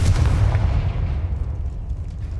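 A Confringo fire spell explodes in the Hogwarts Legacy video game: a loud, heavy blast with a deep rumbling boom that rolls on and slowly fades, heard alone.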